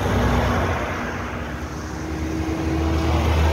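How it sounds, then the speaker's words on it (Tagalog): A motor engine roars steadily and loudly under strain while climbing a steep hill, a constant low droning rumble with a rising whine, close by. "Ano mo naman atungal ng makina."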